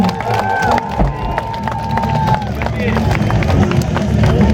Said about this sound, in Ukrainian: Залишається тільки почути ваші гучні оплески.